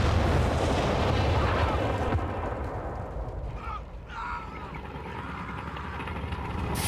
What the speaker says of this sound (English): Flame mortar shell from one of the mortar half tracks.